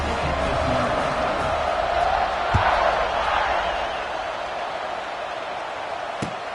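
A stadium crowd roars steadily in an NCAA Football 26 video game around a kickoff, a broad sustained cheer that swells slightly then eases, with a couple of sharp thuds.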